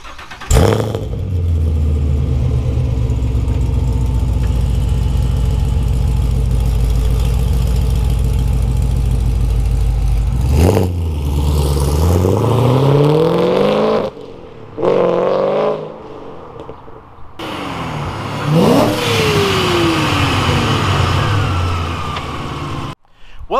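A 2017 Chevrolet Camaro SS with a ZL1 pedal kit installed, its engine droning steadily while driving before repeated sharp revs and accelerations climb and drop, loud and close with brief gaps between pulls.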